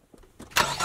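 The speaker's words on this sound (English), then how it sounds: "Grandma, please, the car is not starting." A car engine cranking without catching: quiet clicks and turning at first, then a louder whirring burst of starter noise that stays steady to the end, heard briefly.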